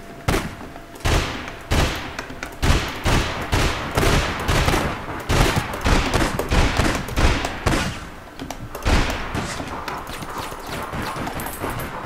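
Rapid bursts of video game weapon fire ring out in uneven volleys, loud and close, each run of sharp shots separated by short gaps over about twelve seconds.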